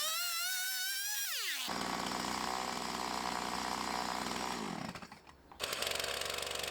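A chainsaw fitted with a gruminette milling attachment cuts through wood. The engine revs up sharply, then holds a loud, steady, strained buzz, dips briefly near the end and roars back at full power.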